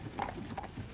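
Horses' hooves clip-clop on a London street in a faint, quiet patter of a few uneven knocks, heard briefly and at a distance.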